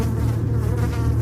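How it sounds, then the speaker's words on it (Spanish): Flies buzz in a loud, close, continuous drone that holds steady throughout, with no other sounds or voices. "Había moscas."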